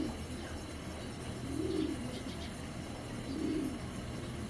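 A healthy racing pigeon gives two soft, low coos a couple of seconds apart, faint and close against a quiet background.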